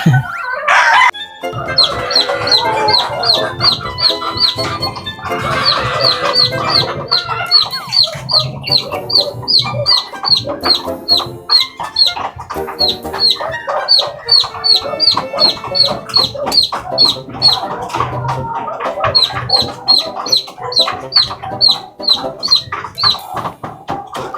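Hens clucking loudly and continuously nearby while searching for their chicks, with steady repeated calls and occasional sharper squawks.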